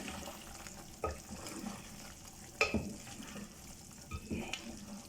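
Black pepper chicken with chili powder and garam masala being stirred in a pan, soft scraping and sizzling with a few sharper spoon knocks against the pan, close and fairly quiet.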